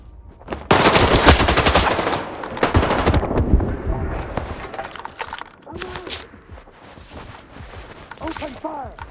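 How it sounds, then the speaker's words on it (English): Rapid machine gun fire in the video game S.T.A.L.K.E.R. 2 erupts in loud, close bursts, then thins into scattered shots and clatter while voices shout and talk in the middle of the firefight. "Open fire!"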